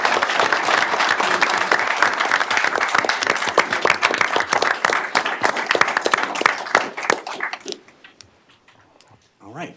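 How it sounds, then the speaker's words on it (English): A room at a port authority commission meeting breaks into applause, dense clapping that holds for several seconds, then thins into scattered claps and fades out. "Please join me in giving Pat Poston a round of applause"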